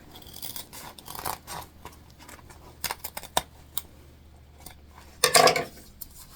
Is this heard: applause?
no